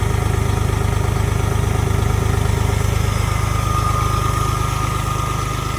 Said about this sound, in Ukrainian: І в цілому ви чуєте, що трактор працює рівномірно.